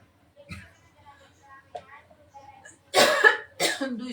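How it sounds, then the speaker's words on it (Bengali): A person coughs while cooking over the heat of two stoves, with a couple of harsh, close coughs near the end after quieter throat sounds and faint background noise. "দুই চুলার গরমে কাশি হচ্ছে"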